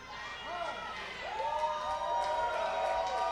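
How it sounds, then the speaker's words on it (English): Wrestling crowd cheering and shouting for Matt Hardy at a PWX event, a sustained roar with scattered whoops and rising voices throughout. "Now Matt Hardy getting the crowd behind him."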